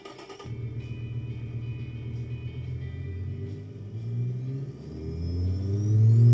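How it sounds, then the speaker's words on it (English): A turbocharged car engine in the racing game Automation, with a baffled muffler exhaust, revs steadily and climbs in pitch and loudness toward the end, a rough low rumble with a faint turbo whine above it. "Here's the turbo. Backfiring."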